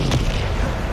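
A Bombarda blasting spell goes off in the Hogwarts Legacy video game, one continuous booming, rumbling explosion that fills the whole moment at a steady, loud level.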